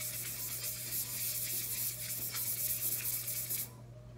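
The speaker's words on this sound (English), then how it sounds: "I am going to sand my tumbler" A tumbler being hand sanded, a continuous close, hissing scrape with rhythmic back-and-forth strokes that stops just before the end.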